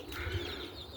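Roller pigeons coo outdoors on a rainy, windy day, giving a brief low double coo over breezy background noise.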